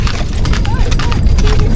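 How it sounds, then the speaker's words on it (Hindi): Horse hooves clip-clop steadily on a ride near a wetland village on the India–Pakistan border, a continuous close rhythm mixed with wind and background chatter. "लो भाई, घोड़े की हो रही है सवारी आज।"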